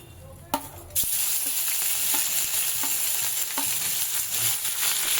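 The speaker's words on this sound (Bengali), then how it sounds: "বাকি তেলটায় গরম মশলা ফোড়ন দিয়েই আমি দিয়ে দেবো পেঁয়াজ বাটা।" Onion paste drops into hot oil seasoned with whole garam masala, bursting into a loud sizzle after a couple of clicks, then steady frying with periodic stirring scrapes, for a prawn malai curry.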